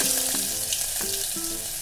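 Green chili paste frying in hot oil with a mustard seed and cumin tempering for Maharashtrian pithla, a close, steady sizzle broken by a few short spoon knocks and clinks.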